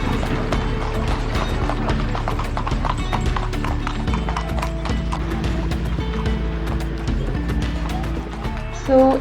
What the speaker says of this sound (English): we are being taken in an horse carriage